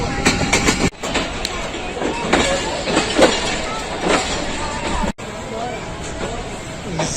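The Shah Hussain Express, hauled by a ZCU locomotive, rolls into Lahore Junction with loud rumbling wheels and rhythmic clatter over joints, close by, amid a murmur of people.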